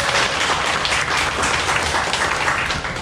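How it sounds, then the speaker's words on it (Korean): Many people in a parish centennial gathering applaud a priest, producing a loud, thick, continuous patter of clapping that holds evenly for a few seconds with no clear speech. "신부님 고맙습니다. 박수 한번 보내주세요."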